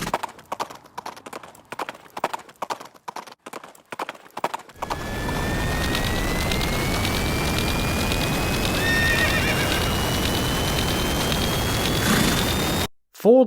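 A horse whinnies several times, then hooves clip-clop steadily in a continuous run, loud and near, with no voices.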